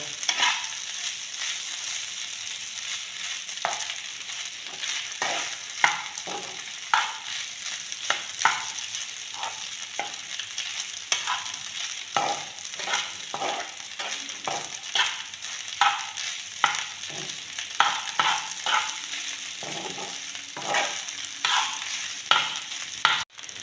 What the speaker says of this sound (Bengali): সবজির সঙ্গে সব ভাত মিশিয়ে নেব এইভাবে